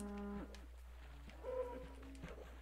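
A cow in the Minecraft video game gives two clear, drawn-out moos, the first long and steady, the second shorter with a rising tone, over a constant low background hum.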